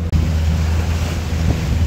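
A light headwind buffets the microphone aboard a MacGregor sailboat named Doris, a steady low rumble of wind and water noise throughout, with a brief dropout near the start.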